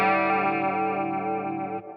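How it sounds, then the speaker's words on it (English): A Hughes & Kettner Switchblade guitar amp on channel A, with its mod effects knob set to chorus, gives a sustained shimmering chord that rings close and steady before cutting off near the end. "say I want to add a little bit of chorus. I'll start to move the mod effects knob."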